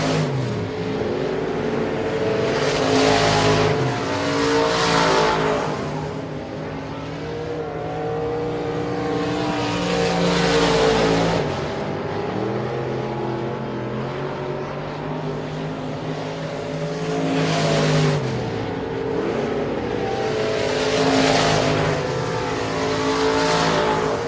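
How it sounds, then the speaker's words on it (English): Race cars roar around Sabine Speedway during a heat race on opening weekend, engines rising and falling in repeated loud passes as the pack laps the track, with no talk over them. "Going to be 2 laps to go this time for the 78 of Hagen"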